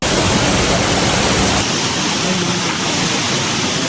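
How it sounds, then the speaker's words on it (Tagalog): A waterfall in Bataraza pours down in a steady, loud, broadband roar that stays constant throughout. "Yan ang falls."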